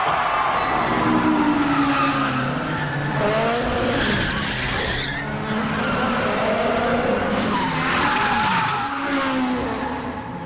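A car drifting in the film Fast and Furious: Tokyo Drift, with squealing, skidding tires and a revving engine sweeping through continuously, loud and close, with no talk over it.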